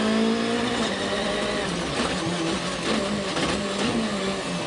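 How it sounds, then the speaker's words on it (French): WRC rally car on a hairpin during the 2012 Rallye de France Alsace, Haguenau stage, its engine droning and shifting steadily throughout, loud and continuous with a broadband roar. "Beau petit survirage de Latvala à la sortie de cette épingle."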